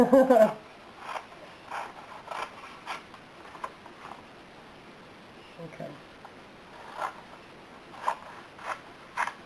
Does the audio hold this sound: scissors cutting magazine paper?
yes